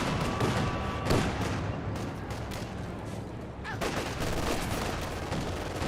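Gunfire from a Company of Heroes 2 battle, with dense continuous crackling shots and rattling bursts layered into a loud unbroken wash that holds steady throughout.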